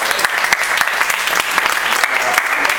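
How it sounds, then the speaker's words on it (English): Audience applause at a retirement party, steady dense clapping from a crowd throughout, fairly loud and close with no speech over it. "let's give them a big round of applause"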